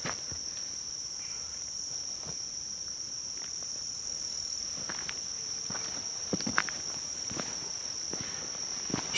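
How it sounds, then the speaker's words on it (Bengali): Crickets chirp in a quiet pine forest in Kalimpong, a steady high-pitched drone running throughout, with scattered soft footsteps and light rustles on the trail. "শুধু ঝিঝি পোকার ডাক"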